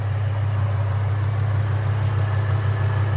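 A 770 hp supercharged Ford Mustang GT with a 5.0L V8 and a Valvetronic Designs exhaust idles with a deep, steady, loud rumble and an even burble, no voices over it.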